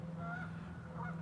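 Geese honk faintly in the distance by a slow-moving river on a calm, sunny day, their calls rising over a low steady hum.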